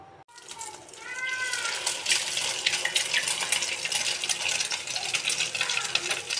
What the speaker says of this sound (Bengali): এখন এই তো পাউরুটিগুলো দিয়ে তেলে ছেড়ে দেব।